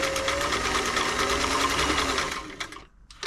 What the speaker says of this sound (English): I'm just going to give it a little sew.